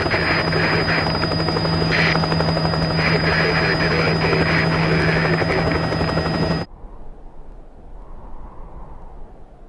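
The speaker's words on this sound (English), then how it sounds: "let me show you what a jet and rocket-powered car looks like running" Bloodhound jet and rocket-powered land speed car running, a loud steady roaring whine with a sustained high tone that cuts off abruptly near the end, leaving only faint background noise.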